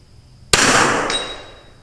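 A single sharp rifle shot cracks close by as a bullet strikes the edge of a target and splits, followed by a faint ringing tail that fades over about a second.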